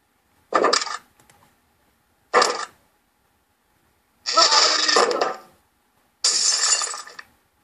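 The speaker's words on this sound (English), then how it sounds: "That was a portal sound effect." Portal sound effect in a tabletop role-playing game, heard as four separate shimmering, crackling bursts: two short ones, then two longer sustained ones, clear and alone with no talking.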